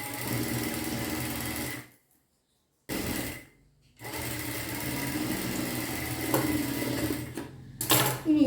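A sewing machine stitches a folded piece of kurti fabric in fast, steady bursts with two short pauses between runs, close up and with no talking.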